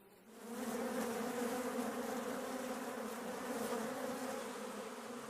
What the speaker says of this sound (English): They swarm out of the hive in a mad, swirling rush.